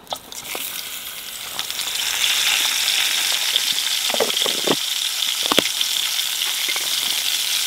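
Mushrooms and tomatoes frying in bacon fat in a firebox pan outdoors in woodland, a steady close hiss and sizzle that swells after the first moments, with occasional spits and crackles.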